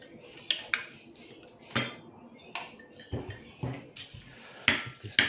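Egg noodles tossed in a bowl with utensils, giving a run of light clinks and scrapes in a quiet kitchen, with a few sharper knocks spaced through it.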